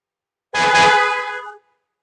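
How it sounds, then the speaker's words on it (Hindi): A BMW car horn, triggered remotely from the My BMW phone app, gives a single steady blast of about one second, loud and close, starting and stopping cleanly in otherwise silent surroundings. "आप हॉर्न एक्टिवेट कर सकते हैं,"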